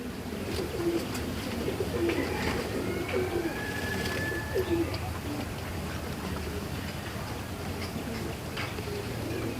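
Hemar military pigeons in a collection coo softly in repeated low murmurs against a steady background hum, with faint ticking and a few other bird calls scattered throughout.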